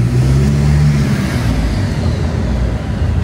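Toyota Innova with a 1GD biturbo diesel engine and ball-bearing turbos running on a dyno, a loud steady engine drone with strong low hum that fades slightly partway through, close and continuous without talk.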